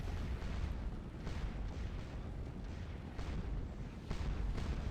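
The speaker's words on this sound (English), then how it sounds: "Here we go, bringing up the artillery." Artillery fire in the Napoleonic battle game Scourge of War: Waterloo at Ligny, a dense, continuous rumble of distant booms and bursts layered over one another with no clear gaps.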